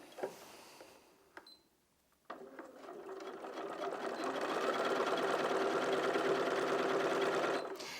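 A Bernina 475 QE sewing machine stitches fabric, its motor starting with a couple of brief bursts and then running in a steady, close, rhythmic hum with rapid needle clatter for several seconds.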